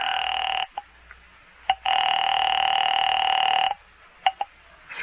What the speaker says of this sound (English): I made another call there in the phone booth.